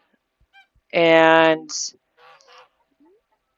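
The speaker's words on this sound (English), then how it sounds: "I just got this goose, so it's still bronze level." A goose in the Echoes of the Plum Grove farming game gives one loud, close nasal honk, followed by a brief squawk and a few softer clucks, while a voice speaks faintly.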